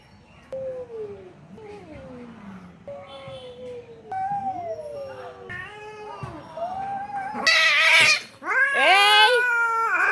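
Cats fighting: drawn-out yowls and caterwauling wails that rise and fall over about ten seconds, growing louder and shriller toward the end, with a voice talking over parts of it.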